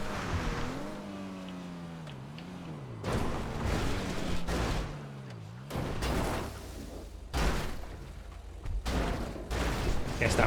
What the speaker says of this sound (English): Guess that was that explosion that I heard.